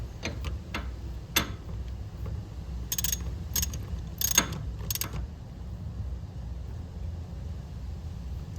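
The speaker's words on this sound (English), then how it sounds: "Now we'll tighten the jam nut." A few sparse metallic clicks and ratcheting ticks from a wrench tightening a jam nut on a pressure relief valve for the thumb of a Yanmar excavator, close and fairly quiet over a low background hum.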